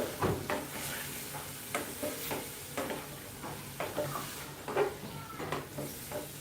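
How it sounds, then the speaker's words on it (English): Potatoes and peas are stirred through a curry sauce for green peas masala, with a spoon scraping and clacking at an irregular rhythm over a steady low sizzle, close and fairly quiet. "Let's stir for some time."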